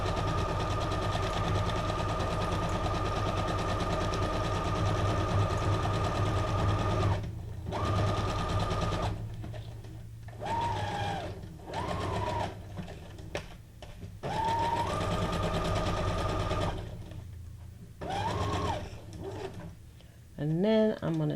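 A sewing machine stitches in a steady mechanical whir, running continuously at first and then in short stop-start bursts, with a person talking between runs.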